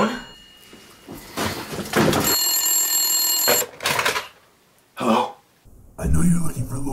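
Telephone ringing indoors, a sustained electronic ring lasting about a second amid scene sounds, with dialogue around it.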